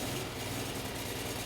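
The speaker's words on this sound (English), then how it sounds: "Next, with the engine running" Toro ProCore 648 aerator engine running at a steady idle, a low continuous rumbling drone with even vibration, heard alone and fairly faint for a brief moment.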